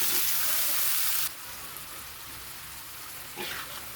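Diced potatoes sizzle with spices in a pan after eggplant was fried, a steady broadband frying hiss that drops slightly in level partway through, with a faint scrape near the end.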